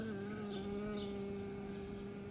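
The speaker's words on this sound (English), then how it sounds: "seems to be some individual bees venturing out" A steady, low honey bee buzz drones throughout, close and fairly even, with no voices.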